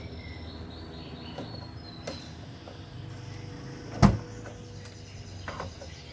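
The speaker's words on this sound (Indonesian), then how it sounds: "Saya akan mencoba merenggangkan dari pintu ini." A Toyota Innova Reborn tailgate being moved by hand, with faint creaks and light knocks building to one sharp, close thud near the middle, then quieter handling noises.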